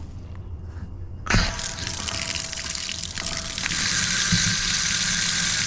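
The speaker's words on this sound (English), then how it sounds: "first I'm going to check all the taps. So outside tap for the garden's just there." An outdoor garden tap at an off-grid property runs water with good pressure, a steady close hiss and splash that starts abruptly after a quiet moment and grows fuller and louder toward the end.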